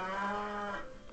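A human voice imitates a cow, giving one loud, sustained, low mooing call that lasts about a second and fades at the end. No other talk is heard.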